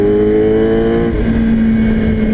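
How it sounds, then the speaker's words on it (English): Motorcycle engine revving with strong induction noise from the airbox, a loud close buzzing drone whose pitch holds steady, then drops as the revs fall, with no talk. "I love that induction noise, it sounds bloody awesome."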